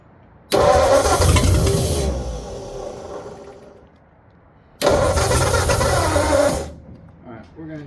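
A 1948 Ford truck engine cranked and caught in two loud bursts, each roaring briefly before fading as it dies, with a short quiet gap between attempts and voices heard nearby.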